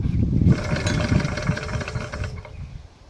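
A Petter A1 2HP stationary engine is cranked, a steady rough mechanical chugging that is loud and close for a couple of seconds before it tails off, with no voices.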